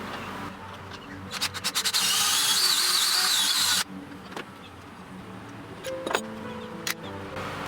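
A power drill bores an angled pocket hole through driftwood with a Kreg pocket-hole jig set to a stop depth, one loud sustained whir of about two seconds, then a few quieter short bursts.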